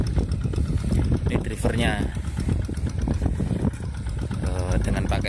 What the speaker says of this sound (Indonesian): Dengan pakai traktor Kubota WG 1000 ya ini